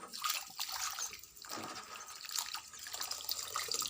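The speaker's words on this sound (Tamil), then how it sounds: "இப்போ அதில் ஃபுல்லாக வந்து கழுவி இப்போ வந்து அலசி தண்ணியில் ஊற்றி அதெல்லாம் அலசிக்குவோம்" Flying termites being rinsed by hand in a vessel of water, a steady close splashing and trickling with small drips, sounding like water sloshing in a sink, alone with no talk.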